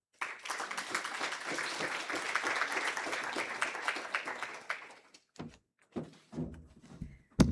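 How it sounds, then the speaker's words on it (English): A burst of applause from a group at a university campus orientation, dense steady clapping for about five seconds, then it dies away into a few scattered claps and thumps. "Another round of applause for Mr. Graham"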